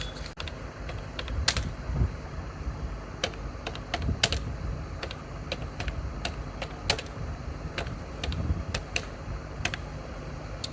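Steady computer keyboard typing as a student's name is entered into a national scholarship portal form, with rapid irregular key clicks close to the microphone over a low room hum, no talking.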